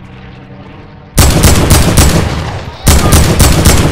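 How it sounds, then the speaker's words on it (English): Automatic gunfire in Fortnite, directed at an aeroplane: a quiet engine drone gives way to two long, loud bursts of rapid rattling shots, close and harsh. "so I just shoot any aeroplane I hear"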